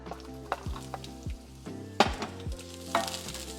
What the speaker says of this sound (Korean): 올리브오일 딱한 스푼이면 돼요. 마늘을 구울 거예요.